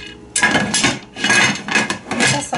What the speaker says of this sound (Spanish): vamos a cerrar la olla.